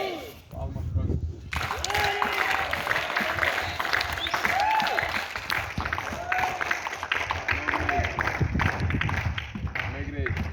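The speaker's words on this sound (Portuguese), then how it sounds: "Palmas para Jesus." A church congregation applauds during a Portuguese-language deliverance service, with dense, sustained clapping from a large crowd filling the room and raised voices carrying over it.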